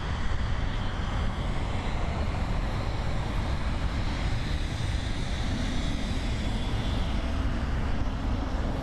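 Jet aircraft engines roar close up at Frankfurt Main Airport, a loud, steady broadband rumble and whine that holds unbroken for nearly nine seconds with no speech.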